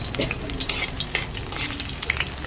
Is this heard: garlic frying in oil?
yes